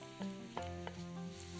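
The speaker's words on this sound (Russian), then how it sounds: "В сковороду с растительным маслом кладем нарезанный лук." Chopped onion hits hot vegetable oil in a frying pan, giving a soft, steady sizzle with a few brief stirring bumps under quiet background music.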